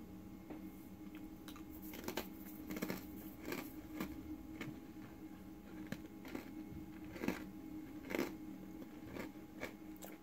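Gingersnap cookie being bitten and crunched, a few sharp crisp crunches scattered over quiet close-up chewing, no talk.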